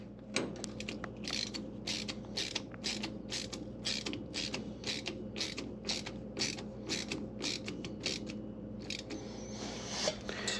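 Nut being tightened onto a screw passing through an A-dowel clamp on a Sonex AeroVee Turbo engine, a rapid run of sharp ratcheting clicks and creaks in quick succession, close and fairly quiet, easing off near the end.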